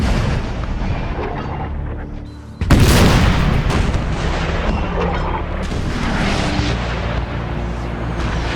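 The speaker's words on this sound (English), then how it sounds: "a barrage of artillery fire commences on the marching troops" An artillery barrage sound effect for the Battle of Waterloo, with a sharp loud boom near the three-second mark followed by sustained rolling cannon fire and rumbling explosions that continue to the end.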